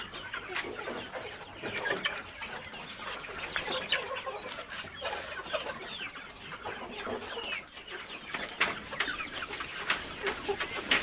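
Layer hens cluck and squawk together in a poultry pen, a dense and busy overlapping chorus with sharp calls rising now and then, steady and fairly close throughout.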